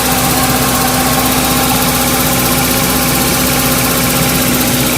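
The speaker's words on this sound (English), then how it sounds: "But it does have a fresh engine in it." A Honda CR-V with a freshly installed engine idles steadily and loudly from close by, a constant hum with a faint mechanical vibration and no voices.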